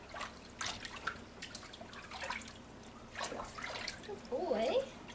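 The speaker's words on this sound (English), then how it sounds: "And then rinse it off." Water splashes and drips softly while a baby is rinsed during a bath, faint intermittent trickles with a voice talking over them.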